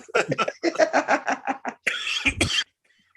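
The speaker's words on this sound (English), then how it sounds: "Cough all that shit up." Rapid speech runs for a moment, then gives way to a rough, harsh cough burst from someone with COVID close to the mic before silence.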